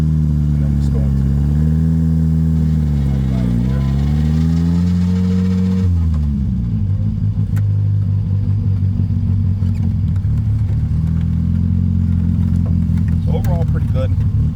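A car engine drones loudly from inside while driving as the clutch is ridden, its pitch rising and dipping before dropping to a lower steady hum after a gear change, with a voice speaking over it.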